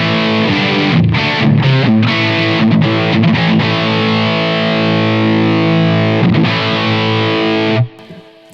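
A high-gain electric guitar plays distorted chords and riffs through a Simplifier MK II into a 4x12 greenbacks cabinet, loud and sustained, then cuts off abruptly near the end.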